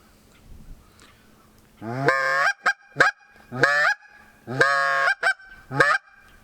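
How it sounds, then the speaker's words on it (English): A goose call is blown in several loud, sharp honking bursts, some long and some short, with brief pauses between them. "Goose call."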